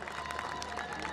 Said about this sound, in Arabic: تصفيق ووداع